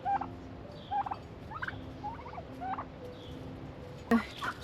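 Turkeys kept on a home garden plot gobble in repeated short bursts, several calls spaced through the scene at moderate distance, with a louder, closer gobble near the end over a low outdoor background.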